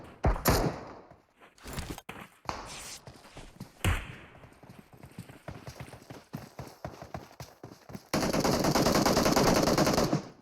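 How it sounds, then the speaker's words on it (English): Gunfire in PUBG Mobile during a league finals match, with sharp single shots and rapid bursts, loud and close, ending in a sustained dense barrage of fire. "Ooh, Resurrection now firing away at Muerte."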